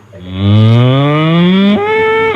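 A voice imitates a cow's moo, one long drawn-out lowing call that rises slightly and then steps up in pitch near the end, loud and close, with no other sound.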